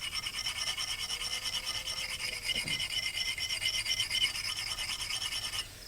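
A metal file is worked across an axe edge in quick, even rasping strokes that repeat steadily and close up for several seconds, with no voices.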